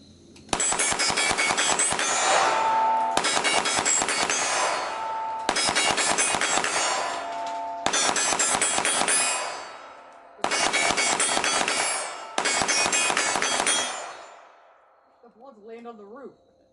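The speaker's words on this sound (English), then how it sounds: "you'll see videos of me shooting this gun" A Kriss Vector submachine gun fires six rapid bursts of sharp, loud shots in quick rhythm, each burst about two seconds long with short gaps, followed by fainter ringing clatter.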